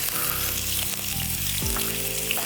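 Onion and garlic sizzle steadily in hot olive oil as spicy lamb and chickpea mince is started, a close, continuous frying hiss with occasional stirring and no voices.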